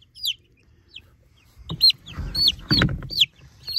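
Rhode Island Red chicken giving a series of close, noisy clucks and short squawks in irregular bursts, with rustling handling noise beneath.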